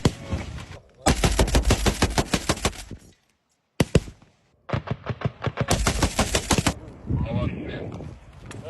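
Rapid bursts of automatic gunfire from a military exercise in Abkhazia, aimed at an advancing mock mechanized platoon, ring out in two long volleys, loud and close, separated by a brief lull and a few isolated shots.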